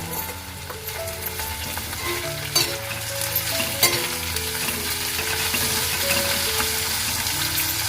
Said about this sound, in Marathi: बघा आपलं ना कांदा आणि टमाटर चांगला परतून झालेला आहे